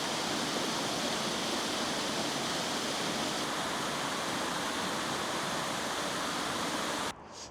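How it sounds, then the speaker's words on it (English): A waterfall roars as a dense, steady rush of falling water, close and loud, cutting off abruptly near the end. "A nice waterfall down here."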